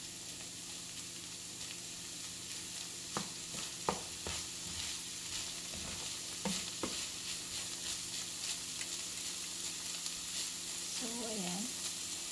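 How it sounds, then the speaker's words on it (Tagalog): Onions sauté in a pan for beef sisig with a soft, steady sizzle, broken by a few sharp scrapes and clicks of a spatula stirring, fairly quiet; a voice says a few brief words. "Igigisa lang natin siya ng like another 1 minute para masigurado natin na yung sibuyas is luto na"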